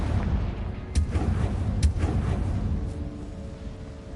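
Fiery blast of the Confringo spell in the Hogwarts Legacy video game, a dense rumbling roar with two sharp explosive bursts close together, fading into a lingering low crackle.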